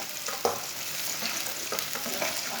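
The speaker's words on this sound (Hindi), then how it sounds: "एक बारीक कटा हुआ प्याज डाल लेंगे। प्याज को हल्का सा ब्राउन कर लेंगे।" Finely chopped onion frying in hot oil in a pan for ridge gourd and gram flour curry, a soft continuous sizzle with faint crackles and an occasional light stir, close but fairly quiet, no voices.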